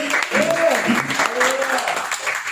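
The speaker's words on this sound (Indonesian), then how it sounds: "Tepuk tangan buat Tuhan Yesus." A church congregation claps during a Sunday worship service, steady applause mixed with voices and some singing-like tones throughout the short stretch.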